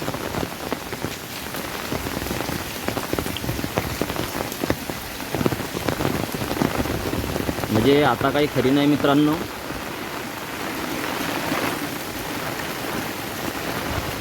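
Flood water pours over a raised cement road in a neighbourhood during heavy monsoon rain, a loud continuous rushing wash with someone talking over it throughout.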